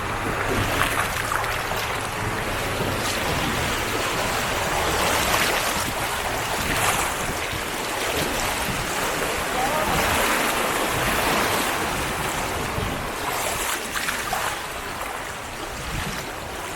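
River water slaps and splashes against a bamboo raft in a continuous rushing wash, with wind noise and a few brief louder surges.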